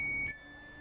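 Door warning beeps inside a train in Train Sim World 5 on the Zwolle–Groningen line: a steady electronic tone that steps to a slightly lower pitch partway through, then holds faintly with no talk.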